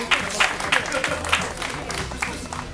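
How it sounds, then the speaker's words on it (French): A crowd at a dance battle event in a shopping centre claps for the mayor in short, uneven bursts of hand claps, close and moderately loud, mixed with some voices in the background. "On applaudit fortement monsieur le maire, s'il vous plaît"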